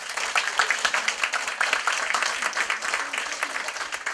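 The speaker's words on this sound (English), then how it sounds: "Let's have a big round of applause." Audience applause after a neighborhood history talk, a steady spread of hand claps from a modest crowd lasting several seconds at moderate level.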